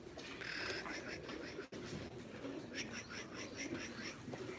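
Pigeons of a kept flock, including Bozkiller birds, cooing softly in repeated low calls close by, with someone talking over them.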